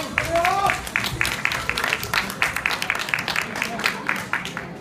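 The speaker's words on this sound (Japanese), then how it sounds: "どうぞ拍手でお迎えください" Audience applause welcoming a teenage singer to the stage at a national music contest, a steady spatter of claps for about five seconds, moderately loud with a faint voice beneath early on.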